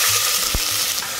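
Bay leaf and onion fry in hot oil in a pan. A steady, bright sizzle plays close and loud, with a brief low knock partway through.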